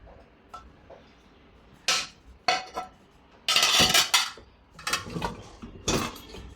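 Dishes and a large wok are lifted out of a Midea dishwasher, giving a series of close, sharp clanks and clatters of metal and crockery, with one longer rattling scrape in the middle and no speech.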